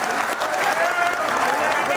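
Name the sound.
audience clapping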